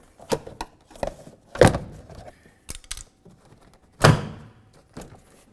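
Several sharp plastic snaps and thunks as door panel clips pop off a 2002-2006 Honda CR-V, two especially loud, with quieter clicks and creaks between them, close up.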